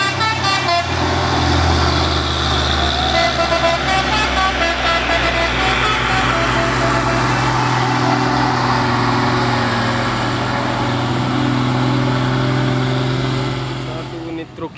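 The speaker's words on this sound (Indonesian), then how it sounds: "Satu unit truk Hino." Heavily loaded Hino truck grinding slowly up a steep hill, a loud continuous low engine drone with shifting tones, traffic and a horn mixed in and a voice talking over it.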